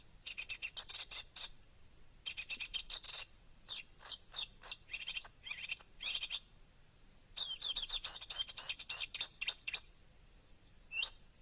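A marsh warbler sings on its own, a quick run of bursts of varied chirps, trills and whistles copied from other birds, set apart by short pauses and close and clear over faint background hiss.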